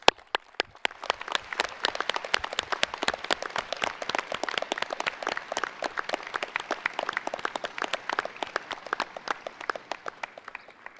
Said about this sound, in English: please give the people who supported you throughout your education a round of applause.